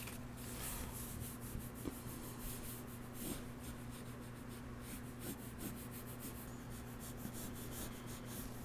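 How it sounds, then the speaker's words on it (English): Pencil sketching a flour sack character on paper, with soft scratchy strokes and occasional light taps over a steady low hum, close and faint throughout, with no voice. "let's draw another one"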